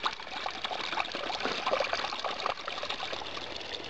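Steady, faint trickling water runs continuously from a pipe at a natural mineral spring, with a soft splashing texture and no voices.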